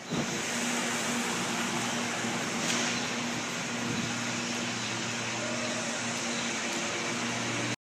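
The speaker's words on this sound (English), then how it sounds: "the annoying blower on the side of the street" Leaf blower running at the roadside in a Chinatown street market: steady, moderately loud whooshing drone that holds level for the whole stretch, slightly distant, with no talk.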